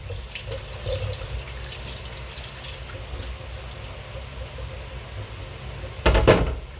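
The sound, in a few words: rinsing mung beans in water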